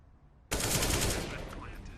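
AK rifle fire in the video game CS:GO during an esports match, a sudden sharp burst of rapid shots that rings out loud and decays over a second or two.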